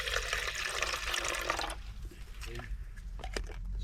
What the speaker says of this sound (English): Let's just add a bit of water.